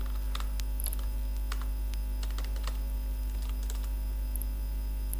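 Computer keyboard typing Python plotting code, scattered key clicks in quick irregular bursts over a steady electrical mains hum, close and fairly quiet, no speech.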